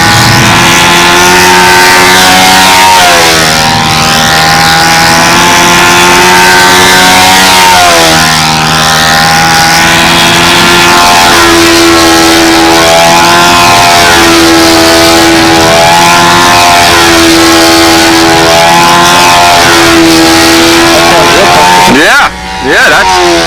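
A nitro RC car engine with a muffler on the Windy Typhoon #339 screams loud and close in sustained high-pitched revs, with repeated rises and dips in pitch across the run and a sudden drop near the end.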